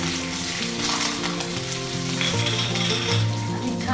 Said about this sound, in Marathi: आता याच्यात आपण घालायचं आहे कमी पत्ता